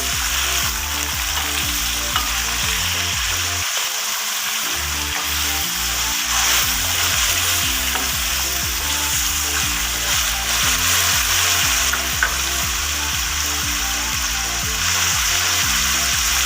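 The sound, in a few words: potatoes frying and being stirred in a pan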